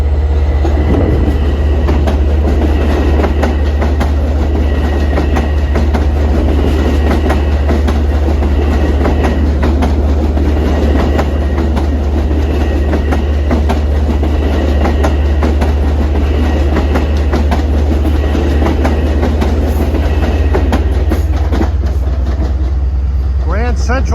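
A hot LIRR MU electric train roars past on the Main Line near Bethpage and Hicksville, loud and close throughout, with a steady rumble, rhythmic clickety-clack of wheels over rail joints and a high electrical whine.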